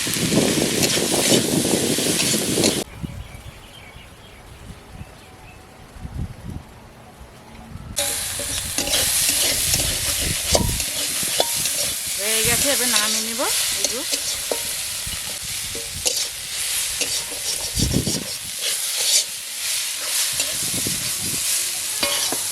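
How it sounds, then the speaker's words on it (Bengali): Green chillies and spices sauté in a pan in a village kitchen while pointed gourd stuffed with prawns is being made, loud sizzling and stirring scrapes with a brief quieter stretch in between and steady frying noise throughout. "ভালো করে কষে নিয়েছি"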